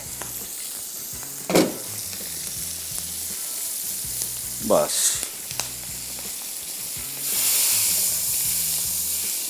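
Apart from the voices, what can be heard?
tempering spices sizzling in oil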